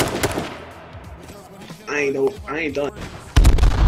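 Gunfire from the video game H1Z1 pops in short bursts at the start and returns as a loud, dense barrage at the end, with someone talking in between.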